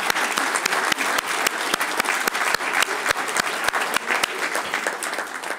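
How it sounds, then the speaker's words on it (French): Members of an extraordinary municipal council session applaud newly elected CCAS members, with brisk, fairly close hand claps, some sharp individual claps standing out, and steady throughout. "On peut les applaudir."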